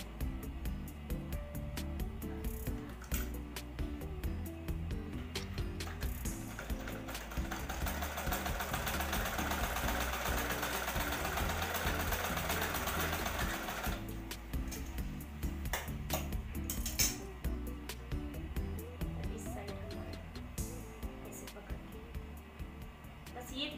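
A sewing machine stitches a simple blouse with a rapid mechanical whir, running in steady bursts with pauses in between, while someone talks over it.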